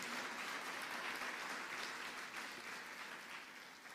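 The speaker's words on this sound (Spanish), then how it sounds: "Dele un fuerte aplauso al Señor" A church congregation applauds steadily through a worship service, a dense, even wash of many hands clapping at moderate volume that eases slightly toward the end, with no one speaking over it.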